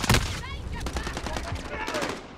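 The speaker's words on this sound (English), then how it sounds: "Thanks for shooting me, bro." Rapid gunfire in a tactical shooter video game, a dense volley of sharp cracks and bursts that opens with a loud near shot and keeps rattling, with fainter shots scattered throughout.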